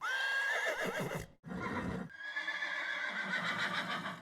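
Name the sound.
horse neigh sound effect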